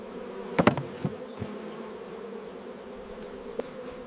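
A steady low buzzing of honey bees around hives hums throughout, with a few sharp knocks and taps near the start, quiet and close.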